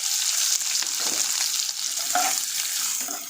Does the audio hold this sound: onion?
yes